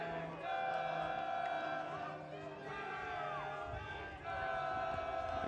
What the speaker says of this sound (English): The crowd urging Wilmington defense here to break to win.